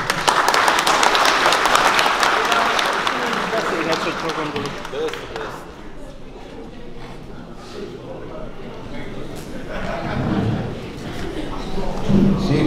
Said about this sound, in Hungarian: nagy tapsot várjuk őt.